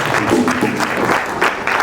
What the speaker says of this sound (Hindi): जरा सी तालियां बजा दीजिए तो उत्साह निकल आएगा।